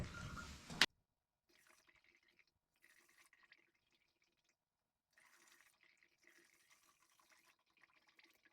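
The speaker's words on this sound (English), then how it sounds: "So I'm getting drips out of the front." Distilled water dripping from the front of a 1984 Bertone X1/9 while its coolant system is filled, faint irregular drips and small splashes after a brief louder noise at the start.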